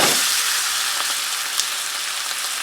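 Beef roast searing in a hot pan, a loud steady sizzle and hiss that fills the whole moment with no one talking.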